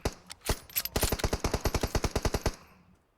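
Rapid bursts of automatic gunfire in PUBG Mobile crackle in a fast, even rhythm, preceded by a few single shots, fairly close and without talk.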